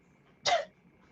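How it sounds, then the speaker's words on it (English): A single short, sharp sniff close by, set against a quiet background with no talking. "is that you in there sniffling?"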